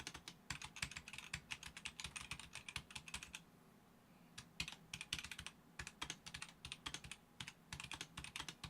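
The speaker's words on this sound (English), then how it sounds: "I've got the keycaps. I'm going to let you listen to them." Rapid keystrokes clack on a Roccat Vulcan 120 Aimo keyboard fitted with new keycaps, in steady bursts from a two-finger typist. There is a short pause in the middle, and the sound is close and fairly quiet.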